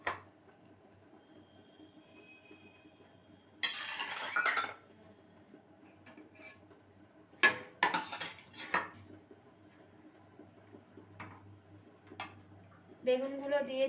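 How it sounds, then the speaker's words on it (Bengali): Pre-fried eggplant pieces go into a pan of spicy curry with scattered clinks and clatters of utensils against cookware, a few short, fairly loud bursts separated by quieter stretches of low kitchen background. "এবার আমি আগে থেকে ভেজে রাখা বেগুনগুলো আমি ওপর থেকে দিয়ে দিচ্ছি।"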